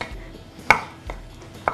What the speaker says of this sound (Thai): ถ้าเราสับเห็ดเนี่ยเราก็หั่นเป็นชิ้นแล้วเราค่อยสับ